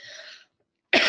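A soft throaty sound fades out, then after a short silence one sharp, loud cough bursts in close to the microphone.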